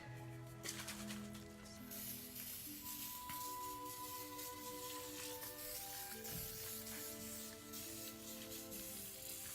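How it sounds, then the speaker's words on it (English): Hairspray misted onto sleek styled hair during an updo, a steady broadband hiss lasting several seconds at close range over a faint background hum. "next I'm just going to spray it with hairspray just to keep it staying sleek"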